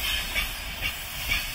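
A train rolls along rails on an autumn journey, a steady hissing rumble with faint periodic swells, close and continuous, with no talk.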